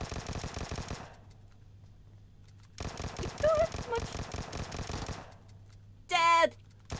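Automatic gunfire in PUBG Mobile comes in rapid, rhythmic bursts separated by short quiet gaps, fairly close and crisp, with a brief voice near the end.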